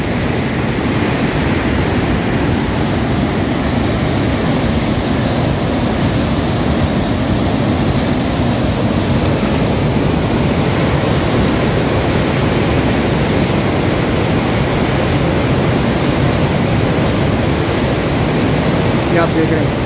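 Powerful river flow surging through Head Marala barrage, a dense, unbroken roar that stays loud and constant, with a faint voice briefly audible beneath the water noise.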